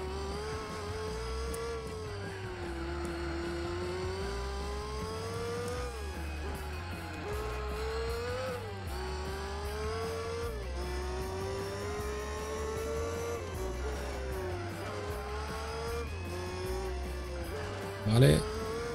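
A Cobra race car's engine drones steadily in Gran Turismo 4, its pitch rising and dipping through gear changes over a constant low rumble, with a brief thump near the end.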